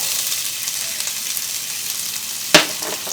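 Onions browning in olive oil in a pan sizzle steadily and crackle softly up close, with one sharp utensil clack near the end.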